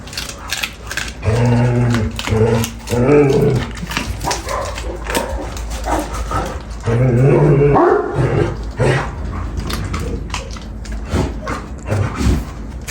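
A Kangal dog barks and whimpers excitedly in loud bursts indoors, with rattling and knocking noises between the outbursts.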